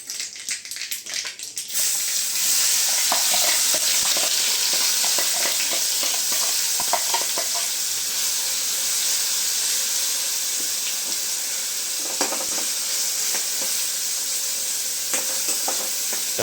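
Mustard seeds, cumin and salt sizzling in hot oil in a Gujarati home kitchen, a steady loud frying hiss with faint crackles and pops, no talk.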